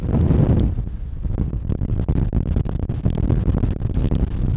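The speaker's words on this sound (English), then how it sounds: "It's a little windy right now." Strong wind at Great Sand Dunes National Park buffets the microphone, producing continuous low rumbling and gusty thumps throughout, loud and close with no talking.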